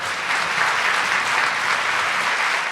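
Steady audience applause fills a concert hall at an Estonian Independence Day concert ceremony, dense and even throughout with no break.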